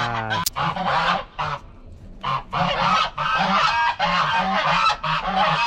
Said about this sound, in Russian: Смотрите, какой гуси-лебеди